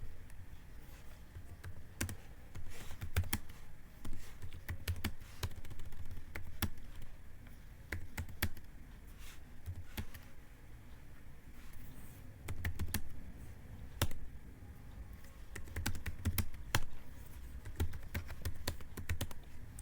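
Keys on a computer keyboard clack in irregular quick bursts and single taps, close and fairly quiet, over a low background hum.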